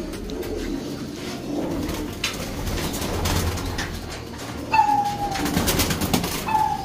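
Pigeons coo in a loft holding racing pigeons, a soft low murmur running throughout with a few brighter calls near the end over steady background noise.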